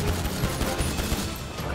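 Dense, continuous gunfire in GTA V rattles loudly and close, rapid shots blurring into a chaotic roar without pauses.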